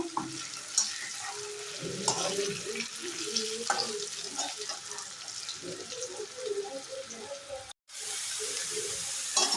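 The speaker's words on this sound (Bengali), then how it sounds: "আলুগুলি দেখো মোটামুটি ভাজা হয়ে গেছে আমি আরও কিছুক্ষণ ভেজে নেব লাল লাল হওয়া পর্যন্ত" Potatoes fry in a pan with a steady close sizzle. Repeated stirring scrapes and soft clatters run through it, and the sound cuts out briefly near the end before returning.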